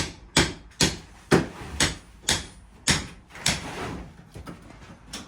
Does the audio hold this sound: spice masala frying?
no